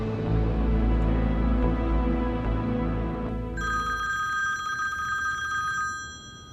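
A telephone rings in a drama scene, a steady electronic trill that begins partway through over a low rumbling background and continues several seconds, fairly clear and close.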